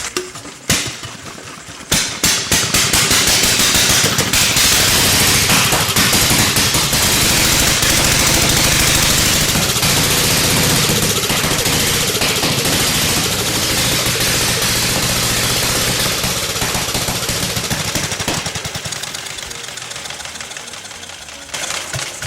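An antique motorcycle engine fires up after a few sputters and settles into a loud, close, continuous rapid chugging roar that holds steady for many seconds before easing off near the end.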